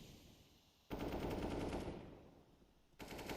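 Rapid bursts of pistol gunfire from a Counter-Strike match on the Inferno map, loud and dense, with a sustained volley followed by a short gap and another burst.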